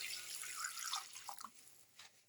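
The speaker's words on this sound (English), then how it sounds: "Pour in 200 ml of water." About 200 ml of water is poured into a casserole pot of cooked garlic chicken, giving a soft, close, splashing trickle that tapers into a few brief drips and sloshes, with no talking.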